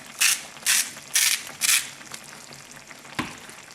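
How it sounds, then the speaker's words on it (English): Four crisp, loud bursts of a salt grinder being twisted over a pan of liver and onions in gravy, evenly spaced ratcheting crunches followed by a softer knock, with no talking. "And we're going to add now salt and pepper. So grind salt,"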